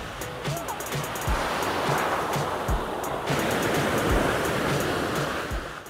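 Ocean waves roll onto the beach at Puri in a steady, loud, close roar of surf that continues without a break.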